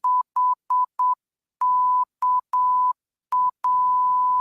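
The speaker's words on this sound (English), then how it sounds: "Morse code, man. You got to be careful with that." Morse code beeps, a steady mid-pitched tone keyed in short and long pulses with brief gaps, loud and clean, ending on a sustained dash.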